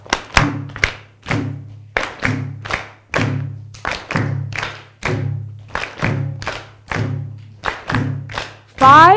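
An audience clapping hands and stomping feet together in a steady rhythmic pattern, loud and close, with groups of sharp claps landing over deeper thuds, repeating in short bursts separated by brief pauses.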